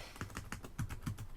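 Keys tapped on an Orange Pi 800 compact keyboard computer with slightly raised, fairly firm membrane keys: a close, steady run of about eight quiet clicks at a brisk, even pace, with no voices.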